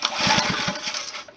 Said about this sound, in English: let's see if it starts on the first pull.